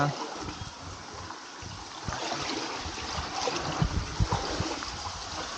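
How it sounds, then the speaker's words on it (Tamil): Water gushing out of a pipe from an overflowing well at a flooded house in Jaffna, a steady broad rushing and splashing that swells slightly, with a voice talking faintly in the background. "இங்கே பாருங்க குழாய் கிணத்தால் தண்ணி வெளியில் வந்து வந்துருக்கு"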